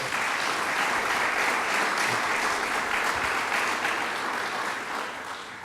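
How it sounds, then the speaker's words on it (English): Audience applauding steadily at a New York State bill signing for a medical marijuana program, a full sustained wash of clapping that eases slightly near the end. "Let's give them a round of applause"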